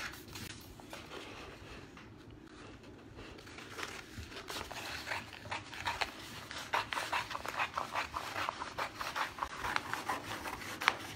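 A cutter is drawn along a measured line to slice a strip of vinyl for a rustic personalized sign, giving a soft, scratchy rubbing that grows louder and more choppy toward the end, heard up close with no talking.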